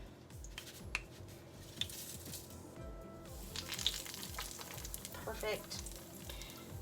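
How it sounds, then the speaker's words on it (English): Breaded chicken sizzles steadily in hot olive oil in a pan, close by, with clicking and tapping from handling. A brief spoken word comes partway through. "I will fry these for 2 minutes on each side"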